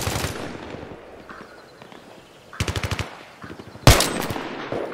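Gunfire in the Battlefield 3 beta, a short rattling automatic burst mid-way and a louder heavy blast afterward, set over a busy battlefield background with distant shots.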